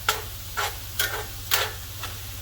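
Meat for cheesesteak eggrolls sizzling in a pan with a steady hiss, broken by rhythmic stirring scrapes about every half second, close and moderately loud.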